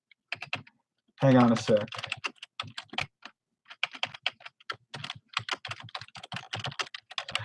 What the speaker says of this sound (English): I can't talk and type at the same time.